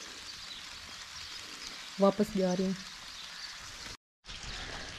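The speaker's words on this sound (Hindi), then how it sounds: "बारिश हो रही है" Rain falls steadily in a village on a cold winter day as a soft, even hiss close by. Someone speaks briefly partway through, and the sound cuts out for a moment near the end.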